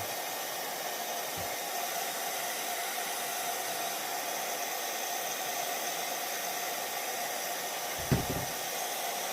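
Cheap Amazon heat gun blowing hot air onto an RC crawler tire, a steady loud broadband whoosh that holds constant throughout, with a couple of brief low thumps of handling near the start and toward the end.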